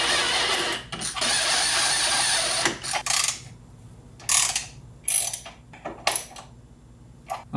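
Close ratchet clicking as 13 mm bolts are tightened in a Nissan GTR engine bay, first a long steady run and then several short bursts separated by pauses.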